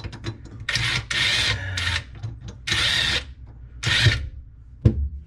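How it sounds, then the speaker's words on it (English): Impact driver tightening the mounting screws of an InSinkErator garbage disposal under a sink, several short loud bursts of whirring and hammering separated by pauses, ending with a sharp clunk. "So now you can get your screwdriver. I'm using the impact in my case."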